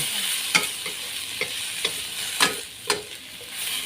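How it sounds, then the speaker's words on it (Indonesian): Oncom frying in a pan with shallots and red chili keeps up a steady sizzle, broken by several sharp scraping stirs at irregular intervals, close and clear, with no talking. "Kita goreng kurang lebih 2 menit ya."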